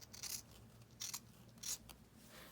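Scissors cutting through paper or card in three quick close snips, each a brief crisp rasp separated by pauses, fairly quiet with no voices.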